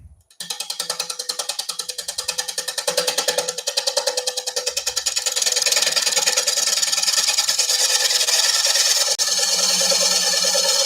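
A chisel cuts into a wooden bowl spinning on a lathe, giving a steady rasping scrape with a rhythmic flutter from the uneven rotating surface. It grows louder and more continuous partway through.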